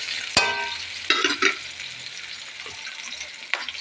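Pancit ingredients sautéed in a pan: a sharp sizzle as food hits hot oil, followed by scraping stirs and bursts of frying hiss, fairly close and moderate in volume with no talking.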